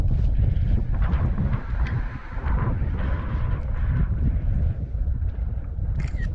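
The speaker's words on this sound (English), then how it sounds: "This daggum wind." Gusty wind buffets the microphone beside a small creek during a bass fishing trip, a continuous low rumble with faint water and boat sounds mixed in.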